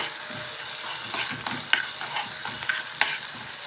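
Onions with small chopped pieces of pigeon gizzard sizzle in a pan while a utensil stirs them, giving a constant close frying hiss broken by a few sharp scraping clicks.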